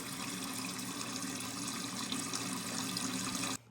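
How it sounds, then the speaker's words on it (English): A toilet tank refills with water after a flush: a steady, loud hiss of rushing water that stays even for several seconds and then cuts off abruptly. "every time you flush, this water should be going down and filling the toilet back up"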